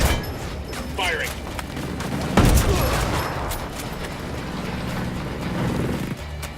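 Gunfire in Ghost Recon Wildlands, with a sharp, loud burst of shots near the middle amid a steady ambient rumble, while voices talk over the action.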